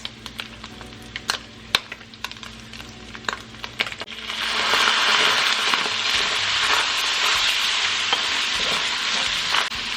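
Beef fried rice stirred in a hot pan: scattered scraping clicks at first, then a loud, steady sizzle of frying takes over and holds with more stirring.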